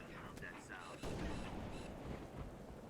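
A sniper headshot in Halo: The Master Chief Collection, a sharp loud crack that lands about a third of the way in over quieter game ambience and speech.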